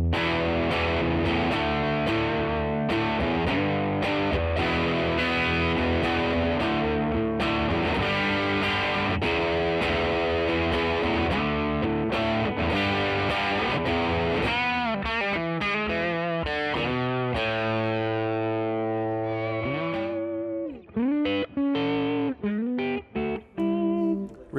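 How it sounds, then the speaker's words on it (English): Overdriven electric guitar through a Hayden HGT-A20 combo amp plays chords and riffs continuously, loud and gritty, ending with a few sparser picked notes. "I'm just going to have a bit of a play so you can hear the different tones that can come out of this amp"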